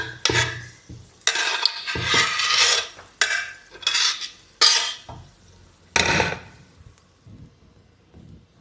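Fried cashews and raisins being scooped out of a pan, heard as a series of close metallic scrapes and clinks of a spoon against the pan in bursts separated by brief quiet gaps.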